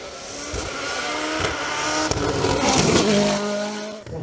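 A Nova NP012 Turbo race car powers up a hill climb course, its engine revving hard and rising through gears, loud and close with tire noise, no talk.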